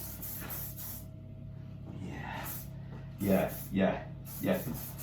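Several short hissing spray bursts at a barbershop during a haircut come in repeated pulses, interleaved with people talking.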